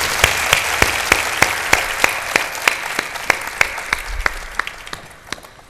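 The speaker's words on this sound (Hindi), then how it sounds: "उनका ताली बजा के भेजें" Audience clapping at a Hindi devotional gathering, a sharp, regular beat of loud claps in unison that gradually fades toward the end, with no talk over it.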